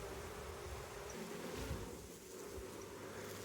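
Honey bees buzz steadily in an open hive during a spring inspection, a low continuous drone close by with no voices over it.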